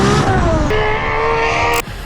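A Nissan S15 drift car with an RB28 engine revs hard up close, its loud, steady high-pitched engine note climbing before it cuts off abruptly near the end.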